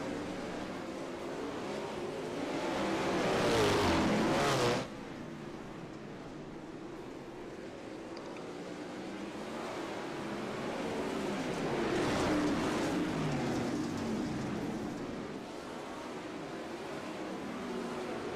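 410 non-wing sprint cars race around I-55 Speedway, engines roaring in two swelling passes that rise loud and fade, with a steady distant drone of the field between them and no talk.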